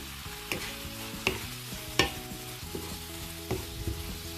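Veal fillet simmering in wine in a pan, with a steady sizzle and bubbling throughout and a few sharp utensil clinks from stirring at a quick, uneven pace.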